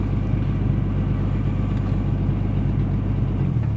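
A 1964 Ford Ranchero engine runs steadily while the truck backs up in reverse, a continuous low rumbling drone close by with no talk.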